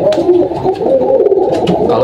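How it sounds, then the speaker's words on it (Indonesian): Caged pigeons kept for racing coo steadily and loudly up close, several overlapping low throaty calls filling the space in a continuous murmur. "kayaknya nih burung di kandang nih jadi berisik ya"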